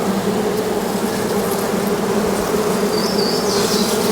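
Honey bees buzz continuously and loudly around a hive frame that carries charged queen cells during a swarm-preparation inspection, a dense close drone with no talk over it.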